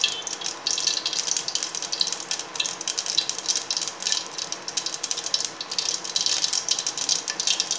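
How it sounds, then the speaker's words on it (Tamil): Mustard and fenugreek seeds crackle and pop in hot oil with a trace of water, a dense, continuous close spluttering with rapid irregular bursts throughout and no voices. "சூடானதுக்கப்புறம் கடுகும் வெந்தயம் போட்டுக்கோங்க"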